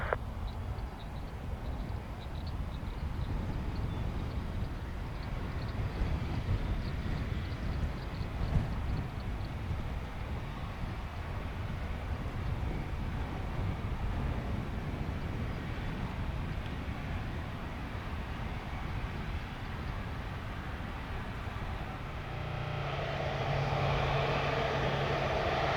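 A JetBlue airliner takes off at Orlando International Airport, a steady broadband engine roar that holds loud and even for about twenty-five seconds, with a brighter rising whine near the end.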